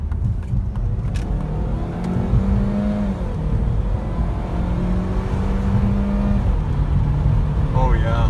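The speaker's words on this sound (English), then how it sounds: "I'll head and give it a little bit of gas here." A Saab 9-3 turbo engine idles and then revs up, the pitch climbing and falling as the throttle is pressed, heard close by with some talk in the background.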